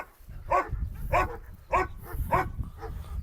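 Cane Corso dogs bark in a steady series of about five deep, loud barks spaced roughly half a second apart, close by, with faint background noise between them.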